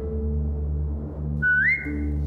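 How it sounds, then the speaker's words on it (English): A person whistles a rising, sliding call to a dog in The Walking Dead video game, a single short clear whistle heard over a low steady hum of game ambience. "Now whistle and tell her to lie down."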